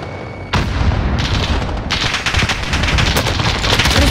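Dense gunfire erupts in a Call of Duty Warzone match on Xbox Series X: a sharp onset followed by rapid, loud bursts of automatic shots and booming reports that run continuously to the end.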